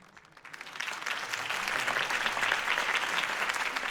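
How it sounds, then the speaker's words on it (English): Crowd applause at a campaign speech in the Batman Telltale video game, swelling from a quiet start into a dense, sustained roar of clapping that stays steady to the end. "If only Mr. Wayne, my campaign's largest backer, could have heard that applause"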